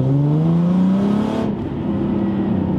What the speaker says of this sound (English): Without clutch kicking, I can get the wheels to spin.